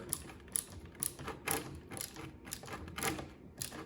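A ratcheting screwdriver tightening screws on a tabletop furnace conversion gives a quick series of soft mechanical clicks and ticks in irregular bursts, close but fairly quiet, with no talking.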